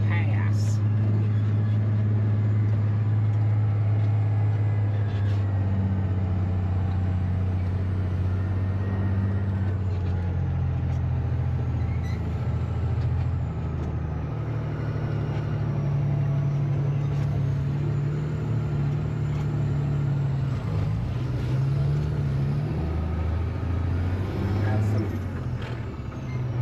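Farm truck and combine engines run together in a harvest field, a loud, steady low rumble that continues with little change throughout, with faint voices occasionally underneath.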